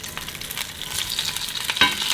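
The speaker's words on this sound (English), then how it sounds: "And we're going right in here for a little real quick sear" Peeled, deveined shrimp with tails on sear in hot olive oil in a pan, a close, steady crackling sizzle with small pops and spits throughout, no talk.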